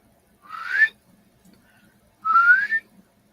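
Two rising whistled bird calls, each about half a second long, separated by a pause of more than a second, clear against a quiet background.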